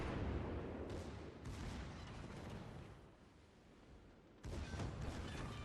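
Naval guns firing in World of Warships, a cruiser's secondary batteries pounding a battleship, heard as a dense, rumbling roar of repeated booms with a heavy burst near the end, distant and muffled.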